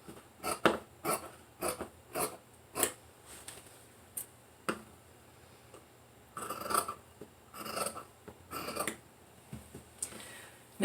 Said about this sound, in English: you're going to cut out 2 layers of the interfacing